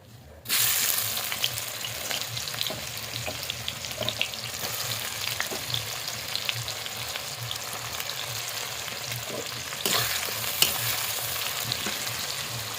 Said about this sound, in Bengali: এবারে তেলটা গরম হয়ে গেছে পেঁয়াজগুলো দিয়ে দেবো